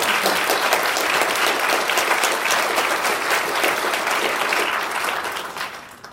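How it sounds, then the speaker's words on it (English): Loud, sustained applause from an audience at a leadership graduation ceremony, dense overlapping claps holding steady before easing slightly at the end. "So can we have a huge round of applause for them?"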